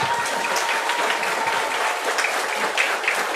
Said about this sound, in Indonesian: Bagilah tepukan sikit.